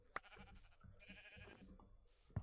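Sheep in a Minecraft-style survival server game give a few short bleats, moderately quiet, among soft game ambience and background noises, with a sharper sound at the start and end.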